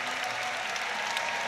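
Stadium crowd at the World University Games athletics applauds as a race winner nears the line, a dense, sustained roar of clapping that stays loud and even throughout.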